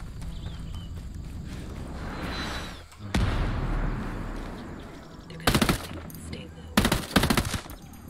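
Gunfire in the video game Ghost Recon Breakpoint cracks out in two loud bursts of rapid automatic shots against a rumbling battlefield background, with a muffled blast earlier.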